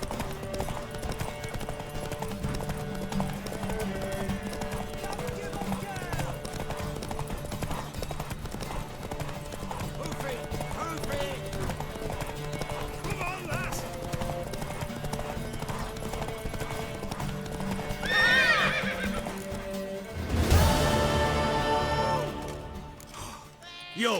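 In The Witcher 3: Wild Hunt, hooves clip-clop steadily over a low background, then a horse lets out a loud neigh near the end.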